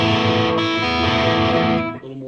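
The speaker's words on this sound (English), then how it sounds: "Here's my 80s Marshall, which is another kind of cool sound." Electric guitar played through an 80s Marshall preset on a Fender Mustang GTX100 amp, a loud, harmonically rich distorted chord sustained and re-struck once before fading slightly near the end, with no talking.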